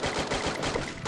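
A rapid, close burst of automatic gunfire in the Garena Free Fire battle royale video game, loud and dense, with no talk.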